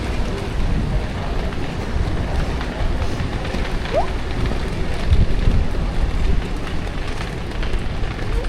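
Dense, continuous patter of rain on surfaces in Vietnam, steady and fairly loud, with a faint voice briefly in the background.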